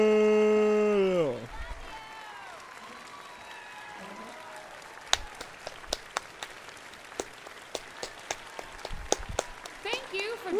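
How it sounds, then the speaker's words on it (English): Claps from a character in Red Dead Redemption 2 ring out as a string of sharp, separate hand claps at an irregular pace over a quiet in-game background, following a brief musical or tonal passage. "Oh, I'm just clapping. I think I was clapping."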